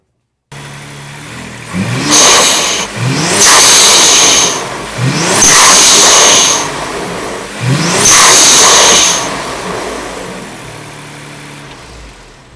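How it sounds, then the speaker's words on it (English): A 2025 Ford Explorer ST fitted with an HKS blow-off valve and cold-side charge pipe revs four times, and each throttle lift brings a loud, close, sharp hissing flutter of the valve venting. There is no talking. "close it out with a little HKS noise, huh?"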